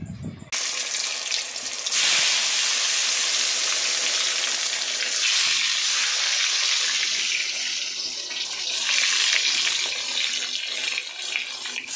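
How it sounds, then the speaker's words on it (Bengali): Eggplant frying in a pan: a loud, continuous hissing sizzle close by, swelling and settling in waves without pause. "তো চলো আমি বেগুনটাকে ভেজে নিই ঠিকভাবে"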